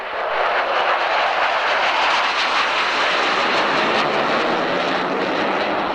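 An aircraft leaving a 1991 air show on departure day produces a loud, steady engine roar with broadband jet-like rush across the whole clip, heard alone on an old, grainy recording.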